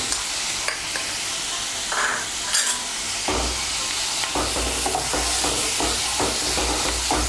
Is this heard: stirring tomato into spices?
yes